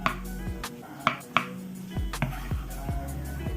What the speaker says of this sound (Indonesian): Saya ingin memotong-motong tahu sutranya.